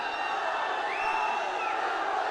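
An audience at a Kannada film promotional event sends up a dense, steady wash of shouting and cheering, with a distinct whoop rising above the crowd noise for about a second.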